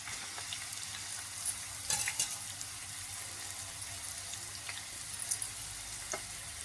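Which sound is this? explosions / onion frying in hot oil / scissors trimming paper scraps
onion frying in hot oil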